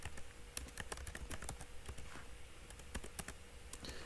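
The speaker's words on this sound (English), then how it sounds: "If I could type, there we go." Close typing on a computer keyboard, a quick uneven run of soft key clicks and taps that keeps going without any talk.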